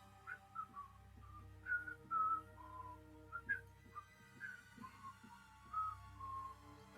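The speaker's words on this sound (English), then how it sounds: "the whistling" Faint, far-off whistling drifts in short melodic phrases, rising and falling with pauses, over a quiet low rumble.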